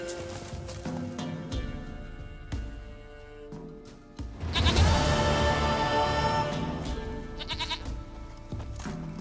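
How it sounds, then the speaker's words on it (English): A goat bleats in The Witcher 3: Wild Hunt, its calls repeating over game music and ambient sound, with a louder busier stretch midway. "Goat of mine, dearest, sweetest goat."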